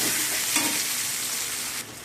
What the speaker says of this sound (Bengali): টমেটোগুলো নাড়াচাড়া করে নিচ্ছি